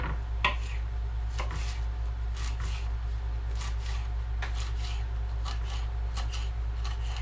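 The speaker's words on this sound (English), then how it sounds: "This is sweet basil. We're going to chop it up and put it in there" A knife chops sweet basil, stems and all, on a cutting board in a kitchen, giving a series of crisp, close, irregular chops with short pauses between them and no talking.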